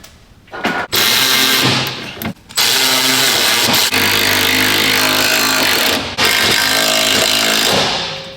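Power tool running 14mm bolts into a Duramax truck frame, loud sustained whirring and rattling in long runs with brief stops between, close up with no talk.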